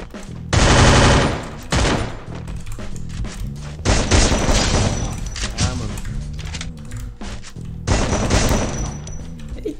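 Loud bursts of Free Fire gunfire and booming explosions, repeated in heavy waves with short pauses, while someone talks over the action.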